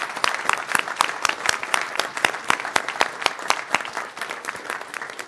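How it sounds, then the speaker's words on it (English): An audience at a state board meeting claps steadily. Dense, loud, continuous applause keeps going for several seconds and thins slightly toward the end. "Let's give them a round of applause."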